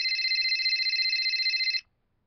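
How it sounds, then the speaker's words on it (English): A telephone rings with a steady electronic trill for nearly two seconds, loud and close, then cuts off into silence. "Stop ringing! Alright, you stupid phone."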